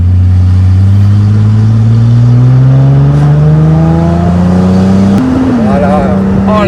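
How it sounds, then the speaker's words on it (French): A Ford Mustang V6 on a test drive, its engine loud and close, revving up steadily in a rising drone, then dropping briefly and settling as the gears shift. "on reprend l'essai de la voiture et on va entendre le bruit là"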